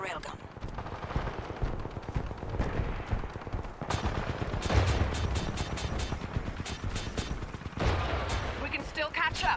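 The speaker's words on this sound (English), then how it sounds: "Charging plasma railgun." A plasma railgun charges and fires in the video game Titanfall 2, amid rapid bursts of gunfire and sharp repeated shots, with a voice speaking over the combat noise.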